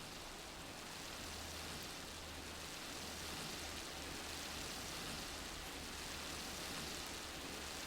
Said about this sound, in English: Adding rain into the mix is not really what I had in mind for this